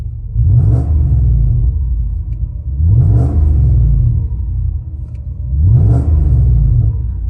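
Mercedes W140 S500 with a custom Magnaflow exhaust and upgraded tips, revved to about 3,000 RPM and heard from inside the cabin with the windows up. The engine swells into a deep rumbling rev three times in an even rhythm, loud and close, with no talk.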